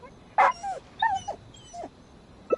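A dog in Genshin Impact whimpers with several high, thin whines and yips, close and clear over a quiet background.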